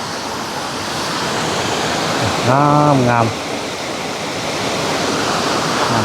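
Steady broadband roar of a waterfall at Tad Kuang Si in full flow, continuous and fairly close, with a brief spoken word rising over the rushing water midway.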